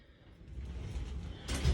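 A sliding wardrobe door glides along its track indoors, a soft rumbling slide that swells toward the end with a brief bump as it stops.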